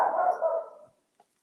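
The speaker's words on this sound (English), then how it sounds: "Sorry about the barking." A pet dog gives a single close, loud bark that trails off over nearly a second, followed by near silence with a couple of faint clicks.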